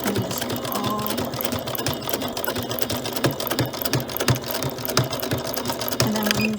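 A sewing machine runs steadily, stitching a tote bag pocket with a quarter-inch foot, its rapid mechanical whirr and needle clatter continuous and close throughout.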